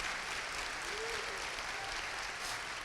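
Congregation applause in a church during a teaching session, a steady, even wash of clapping heard from some distance, with a faint voice briefly rising above it.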